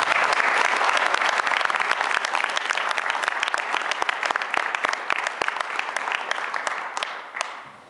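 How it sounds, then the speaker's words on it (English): An audience at the Vermont Environmental Summit applauds the keynote speaker, many hands clapping in a close, crisp patter that holds steady and then tapers off and fades at the end. "will you give him a large round of applause?"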